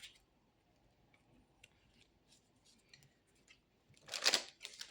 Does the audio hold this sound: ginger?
no